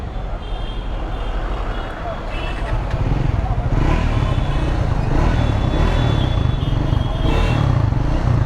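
A Triumph Scrambler 400 X motorcycle engine catches and settles into a steady, loud idle, its rumble growing fuller after the first few seconds, with a voice speaking over it.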